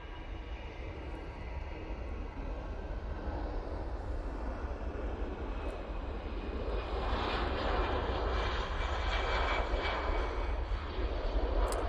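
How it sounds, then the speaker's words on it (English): An EasyJet Airbus A320 rolls down the runway at Manchester Airport for takeoff, a distant jet-engine roar that builds steadily in loudness, with rushing broadband noise and a low rumble. "EasyJet A320 on the roll now."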